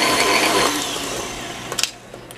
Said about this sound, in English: Blend this real quick.